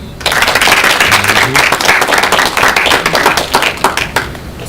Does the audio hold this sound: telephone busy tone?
no